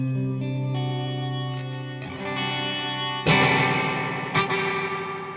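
Electric guitar chords through a Chase Bliss Dark World pedal's spring reverb ring out with a splashy, drippy tail, a few strummed hits decaying into a washy shimmer.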